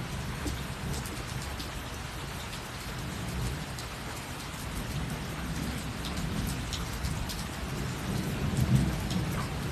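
A Florida thunderstorm lashes down with heavy, continuous rain hissing on surfaces while low thunder rumbles and rolls beneath it, swelling toward the end with a nearer, louder peal; no one speaks.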